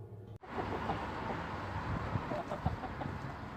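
Backyard egg-laying hens clucking and murmuring steadily over a low outdoor wind hiss, with a few louder clucks standing out after a brief dip at the start.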